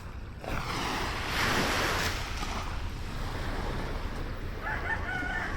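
Ocean surf rolls continuously onto a white sand beach at the southern tip of Luzon in Matnog, Sorsogon, a steady loud wash with one swelling crest, while a rooster crows in the distance.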